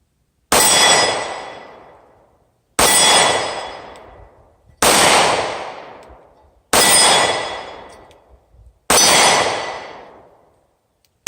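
Five loud gunshots from a Taurus 709 Slim pistol, evenly spaced about two seconds apart. Each crack rings out and decays over roughly a second, with no voices between shots.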